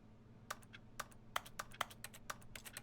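Sharp, crisp button clicks in the video game The Stanley Parable, about a dozen taps in an uneven rhythm, some in quick pairs, close and clear over a quiet low room hum.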